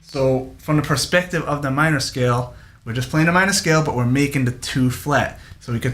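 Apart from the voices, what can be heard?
No everyday noise stands out behind the speech.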